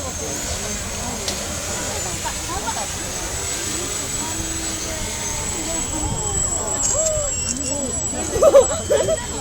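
A small propeller model airplane buzzes steadily at a distance, with a thin high whine over wind noise while people talk and laugh nearby at a lakeside park.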